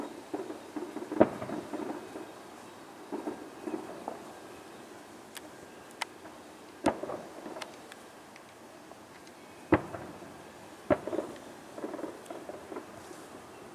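Fireworks bang in the distance on a quiet outdoor evening: faint, scattered thuds and pops spread irregularly over low background noise, with no one talking.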